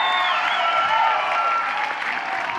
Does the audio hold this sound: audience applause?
yes